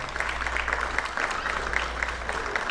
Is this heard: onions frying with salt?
no